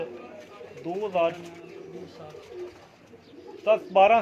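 Lakha pigeons coo nearby in a few soft, throaty bursts with quiet gaps between them, and faint voices linger in the background.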